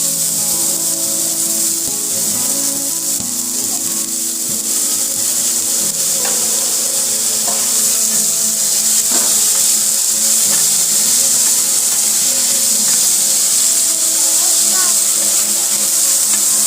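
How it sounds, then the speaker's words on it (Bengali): Grated potatoes frying in hot oil in a pan, a loud, steady hiss and crackle that continues without pause, with a few faint clinks and low background tones underneath. "দাঁড়াও, তেল গরম হয়ে গেছে, দিয়ে দেবো আলু,"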